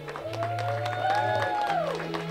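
Wedding guests applauding as the bride's parents enter, clapping under an announcer's amplified voice and background music with a sustained tone.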